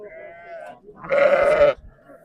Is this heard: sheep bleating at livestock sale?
yes